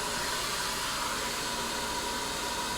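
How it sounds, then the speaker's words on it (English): Steady, even airy whoosh of a light blow dryer running continuously while styling wavy hair, alone and fairly quiet throughout. "This blow dryer is so light and really lends itself to this kind of activity for sure"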